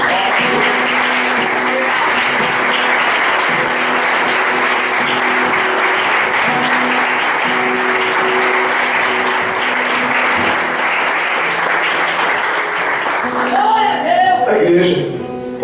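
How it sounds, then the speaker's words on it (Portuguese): A church congregation claps in praise, sustained and loud, steady applause filling the room for most of the time before it tapers off near the end. "Eu convido você a louvar ao Senhor com palmas"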